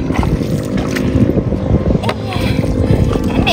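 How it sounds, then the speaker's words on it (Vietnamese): Wind blowing outdoors in rural Vietnam near the water, a steady rough rush buffeting the microphone, loud and continuous with faint background activity. "Gió thổi cực kỳ mát luôn nha cả nhà."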